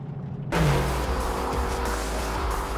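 A Mercedes-AMG GT R engine revs up sharply and holds a loud, rumbling drone, with a brief squeal at the start and steady roar throughout.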